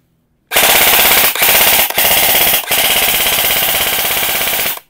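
An E&C DDM4 PDW electric airsoft rifle fires long rapid full-auto bursts, loud and close, with a few brief pauses between strings of shots.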